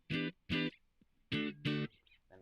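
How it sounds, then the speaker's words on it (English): An electric guitar set to a clean tone sounds four short, plucked notes with brief gaps between them, fairly quiet and with no voices. "So if I play clean tone, we have something like this."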